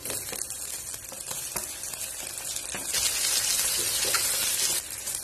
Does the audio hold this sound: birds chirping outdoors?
no